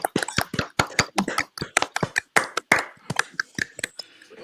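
Participants in an online meeting clap together over open microphones, a scattered burst of many separate claps coming through with uneven, choppy loudness for several seconds.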